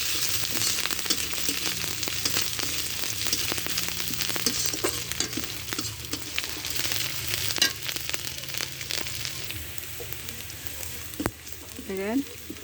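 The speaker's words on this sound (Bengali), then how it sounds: "দেখেন পেঁয়াজ রসুন আমার ভাজা হয়ে গেছে" Onion and garlic cloves fry steadily in a pan for a fish curry, a continuous close sizzle with scattered crackles and occasional stirring clinks.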